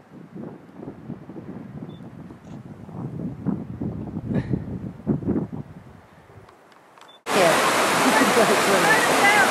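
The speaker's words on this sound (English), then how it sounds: "I caught the waterfall" People chatter quietly, then a loud, constant rushing roar of a nearby waterfall in Glacier National Park suddenly takes over.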